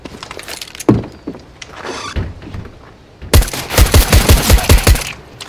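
Rapid CS:GO gunfire on the Lake map in a Wingman match, a tight burst of loud cracking shots near the end after scattered lighter clicks and thumps, with no talking over it.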